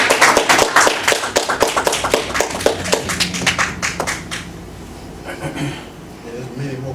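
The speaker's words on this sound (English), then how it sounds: "let's give all three of our brothers and our sisters a warm round of applause" An audience at a religious gathering gives a round of applause, brisk clapping close and loud for several seconds before fading, with talk and murmuring beneath.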